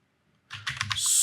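A quick burst of keystrokes on a computer keyboard while entering a sudo command, close and crisp, starting after a short silence and rising into a rapid cluster of clicks.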